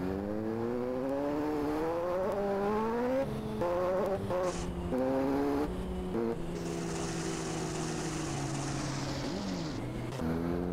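A motorcycle engine in GTA revs up and down repeatedly, rising and falling in pitch with a brief high screech midway.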